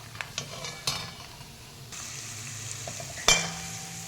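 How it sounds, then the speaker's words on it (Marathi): Peanuts frying in hot oil for chivda give a soft steady sizzle, punctuated by sharp clinks and scrapes of a spoon stirring against the pan, with a louder burst of sizzling toward the end. "तर मी शेंगदाणे आधी छान यात तळून घेते"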